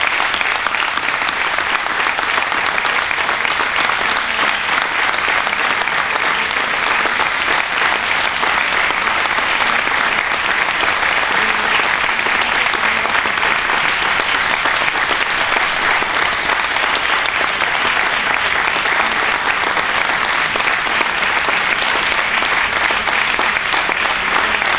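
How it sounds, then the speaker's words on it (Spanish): A large audience at a human rights awards ceremony gives long, loud, unbroken applause, a thick even roar of clapping that holds steady for over twenty seconds. "Por favor, recibámoslas con un aplauso que se oiga hasta en Argentina."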